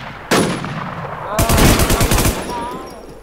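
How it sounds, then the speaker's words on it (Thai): A player's gun in an online shooter video game fires in rapid bursts, loud and close, with a short single burst and then a longer automatic volley. "ดูฟังเสียงปืนเราไว้"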